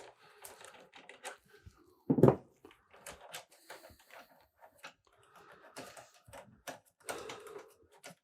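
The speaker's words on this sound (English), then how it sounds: "we remove this bolt here, what holds the silencer in place, with a T40 Torx socket" A T40 Torx socket works the silencer bolt loose on a BMW 1250 GS, giving quiet, irregular metallic clicks and ratcheting taps, with one louder clunk near the start, in a quiet workshop.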